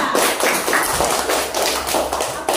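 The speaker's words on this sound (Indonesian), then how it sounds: "Tepuk tangan untuk kelompok 3" A classroom of students claps for a group after its experiment results, a dense, steady patter of hands at close range that runs the whole stretch without a pause.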